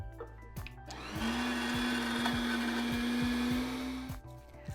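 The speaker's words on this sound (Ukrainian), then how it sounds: "Цибулинку ми теж з вами пропускаємо через м'ясорубку" Electric meat grinder mincing onion for mititei meat mixture, a steady loud motor whine running unbroken for about three seconds, with thumps and clatter before and after.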